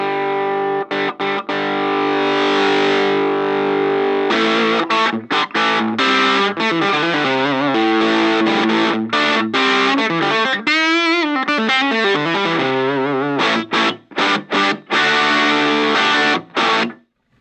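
Electric guitar through a 65 Amps Colour Bender pedal set to low gain, giving a saturated, chunky distorted tone; loud sustained chords and riffs with brief stops, played alone without talk.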